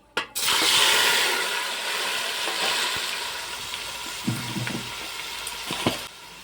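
Chopped tomatoes hitting a hot pan of oil with bay leaves, cumin, dried chillies and whole garam masala, giving a loud steady sizzle and hiss that slowly eases, with a few faint clinks of stirring near the end.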